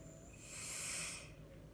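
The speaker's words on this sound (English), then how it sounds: "That sound was the air going back into the tube." Air rushes back through an opened valve into an evacuated vacuum tube, making a single soft, breathy hiss that swells over about a second and then fades, heard alone.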